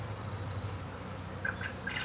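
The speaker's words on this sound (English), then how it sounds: "I'm gonna keep shaking them because it's fun to shake bees." Honeybees from a swarm being shaken down onto hive bars fill the air with a continuous dense buzz, with a few higher passing whines of individual bees flying near; no one speaks.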